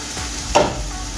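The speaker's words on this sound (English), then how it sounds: "Let me stir up this." A single quick scrape of a utensil stirring vegetables and noodles in a pot, set against a low, steady background hiss of steaming.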